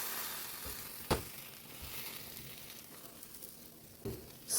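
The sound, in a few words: paneer tikka taco with cheese sizzling in a pan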